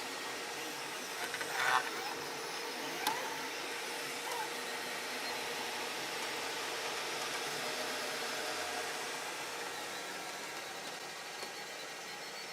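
A 3D printer printing near the end of a job, a steady faint whirring hum of fan and motors with a few brief mechanical ticks, continuous and even.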